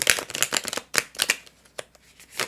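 A tarot card deck being shuffled by hand, with brisk riffling bursts and soft flicks in an uneven rhythm, close and clear with no talk.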